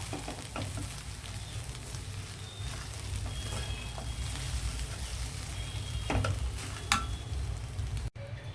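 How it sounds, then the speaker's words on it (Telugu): Rice is mixed into an amaranth-leaf tempering with a wooden ladle, a continuous soft sizzle with low rumbling and intermittent scraping and tapping strokes, ending in a brief sharp knock. "మనం ఇలాగా చెక్క గరిటితో కలపడం వల్ల రైసు విరిగిపోకుండా ఉంటుందన్నమాట"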